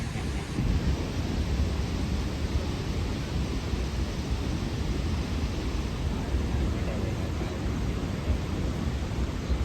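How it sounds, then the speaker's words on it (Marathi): A waterfall at Mahabaleshwar roars as a constant, dense wash of broadband noise, heavy in the low end. Loud and unchanging from start to finish, with no clear speech. "धबधब्याचा आवाज बघा. तो धबधबा पडतो आणि आवाज काय येतो धबधब्याचा."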